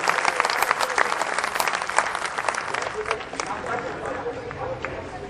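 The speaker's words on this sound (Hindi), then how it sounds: "एक बार जोरदार तालियां पहले कवि के लिए भाई तेजनारायण" Loud, continuous applause from a large crowd at a Hindi poetry gathering, dense clapping that keeps up steadily throughout.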